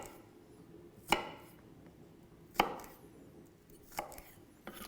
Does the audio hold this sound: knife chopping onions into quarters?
yes